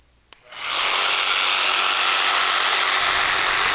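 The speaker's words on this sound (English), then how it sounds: "So I'm actually pulling the saw. I'm pulling the blade toward me." A power saw spins up and cuts crown molding, a sharp click followed by a loud, steady roaring whine that holds at full speed, close by and alone.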